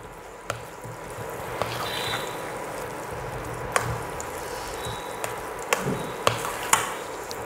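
Moong dal stirred and pressed in ghee in a pan for Chettinad ukkarai, a soft steady sizzle with scattered sharp scrapes and taps of the spoon against the pan, fairly quiet and close.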